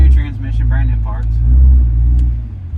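A modified truck with a brand new transmission rumbles and revs deeply at a burnout launch, its heavy low engine tone swelling and easing while people talk loudly over it.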